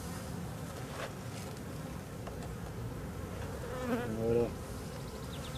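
Honeybees in a drone-laying hive: a low, continuous buzzing hum, fairly faint, with a few louder passes near the end as single bees fly close. A short word is spoken.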